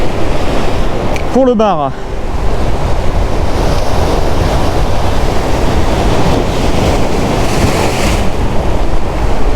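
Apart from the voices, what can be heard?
ocean waves crashing on rocks with wind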